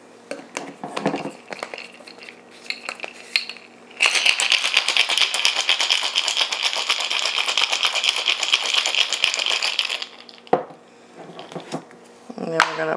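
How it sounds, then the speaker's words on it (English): A citrus refresher cocktail of pineapple juice and other ingredients is shaken with ice in a shaker, a fast, loud rattle lasting about six seconds, preceded and followed by softer clinks and handling sounds. "All right, then we'll give everything a good shake."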